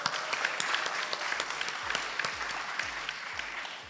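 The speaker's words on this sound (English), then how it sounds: "Please join me in giving them a big round of applause." Steady applause from an audience at a startup demo day in the Philippines, dense and continuous with sharp individual claps and a few low thumps beneath, holding an even loudness throughout without any speech.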